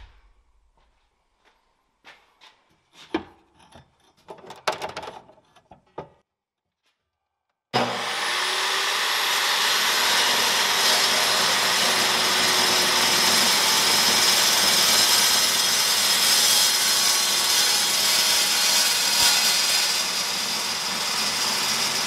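After a few quiet knocks and handling sounds, a saw with a carbide blade starts up, trimming wood at the back of a tractor, and runs as a loud, steady, unbroken whine for the rest of the clip.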